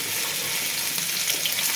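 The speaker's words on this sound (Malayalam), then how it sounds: "പപ്പടം, ചിക്കൻ അവൾ വറക്കാനായിട്ട് ഇട്ടേക്കുന്നു." Papadam and chicken fry in hot oil with a steady, dense sizzle and crackle, close and fairly loud, continuous throughout with no voices.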